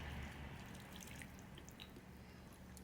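Water is poured from a tap onto pomegranate seeds in a container. The sound is faint, close trickling and splashing with scattered small drips, and no voices.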